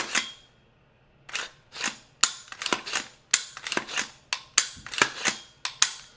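Sharp dry trigger and action clicks from an SBR rifle with a Faxon barrel, freshly oiled, during a function check, about a dozen close, crisp snaps in an uneven sequence with no talk.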